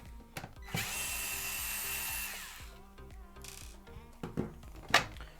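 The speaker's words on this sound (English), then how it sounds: "you expose these two screws and you're going to unscrew them with a T9 bit" A power screwdriver with a T9 bit runs in a steady whine for about two seconds while backing out screws on an Xbox Series S, followed by a few light clicks and taps of small parts being set down.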